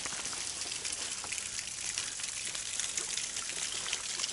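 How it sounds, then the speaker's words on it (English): A small waterfall in the wilderness pours steadily, a constant close splashing rush with no pauses and no voices over it. "It looks like there's a waterfall here. There's just a small waterfall."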